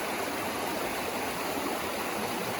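The south branch of the Israel River flows as a steady, broadband rush of nearby stream water, even and continuous without voices.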